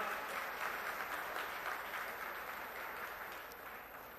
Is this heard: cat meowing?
no